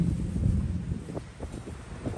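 Wind gusting ahead of an oncoming summer storm at an outdoor work site in Thailand, a steady low rush and buffeting against the microphone with faint rustling, heard alone without speech.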